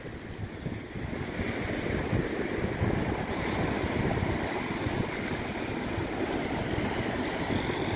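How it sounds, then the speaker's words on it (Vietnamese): Sea waves washing against mossy rocks and rock crevices at Ho Tram beach, Vietnam, a steady broadband surf wash with low rumble, mixed with some wind noise across the microphone, continuous and fairly close, with no voices. "Từng cơn sóng vỗ về,"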